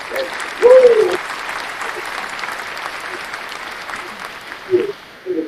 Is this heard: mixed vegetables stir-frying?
no